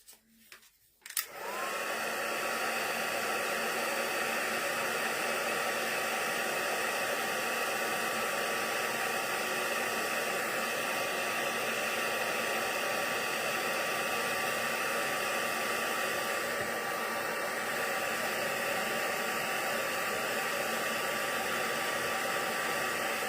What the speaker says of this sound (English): so I'll just heat emboss these.